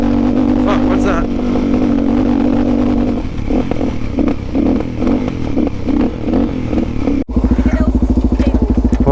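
Suzuki DRZ400SM motorcycle engine idling and warming up after a top end rebuild, a loud close thumping single-cylinder beat with mechanical clatter, briefly cutting out near the end before resuming, with people talking over it.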